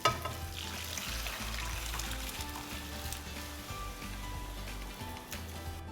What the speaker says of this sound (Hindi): ये देखिए, इसने तेल छोड़ दिया है, इसलिए इसमें जाएगी उबली हुई दाल।